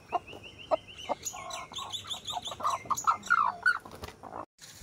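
Two backyard chickens cluck and chirp close by while pecking at soaked leftover rice in the morning, with a busy run of short, varied clucks and squawks and no talking.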